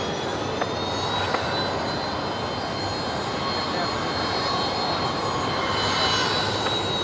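A jet airliner arriving at Brisbane Airport, a steady loud engine roar with a high whine running throughout, heard with radio chatter and talk.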